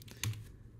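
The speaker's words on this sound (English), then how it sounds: "Hit the return key on your keyboard" A single sharp key press on a computer keyboard, the return key, struck once close up as one brief click with a faint low thump, followed by quiet room noise.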